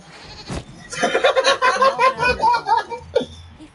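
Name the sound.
goat bleating in the video game Dragon Age: Inquisition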